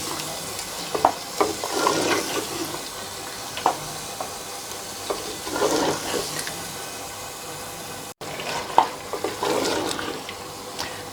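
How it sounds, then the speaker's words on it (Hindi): Boneless beef karahi cooking with yogurt in a pan, stir-fried with soft sizzling and bursts of scraping and stirring at intervals, close and moderate in level, no talk. "दही को शामिल करके गोश्त को मज़ीद 2 से 3 मिनट के लिए भूनेंगे।"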